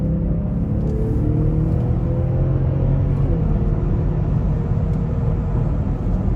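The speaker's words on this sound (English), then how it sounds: "And we'll give it some throttle coming out of this corner." A 2021 BMW X5 xDrive40i with a turbocharged 3-liter inline six accelerates out of a corner, giving a steady, loud engine drone from inside the cabin.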